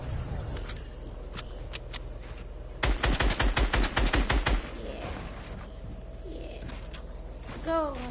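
A rapid burst of video game gunfire, about two seconds of tightly spaced loud shots standing out above steady game ambience and faint chatter, with scattered quieter sounds around it.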